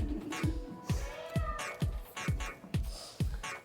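A person imitates a cat, meowing repeatedly during an at-home intermediate workout, a string of close, loud, rising-and-falling meows in a steady rhythm.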